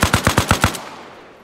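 Automatic weapon fire in the Arma Reforger combat game: a quick burst of six rapid, evenly spaced loud shots, close by, followed by a fading echo tail with no voices.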